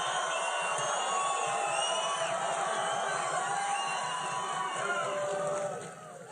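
A large crowd at a Donald Trump rally in Las Vegas, Nevada, cheers and whoops steadily with shrill whistles and screams, a dense continuous roar that eases slightly near the end.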